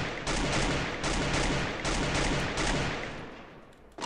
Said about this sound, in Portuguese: Essa arma aqui, ela é muito... Ela varia muito o tiro pros lados.